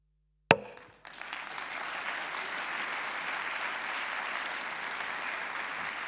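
Audience applause for a speaker at a French conference-debate, starting with a sharp onset and holding as a steady, dense clapping wash throughout with no voices over it.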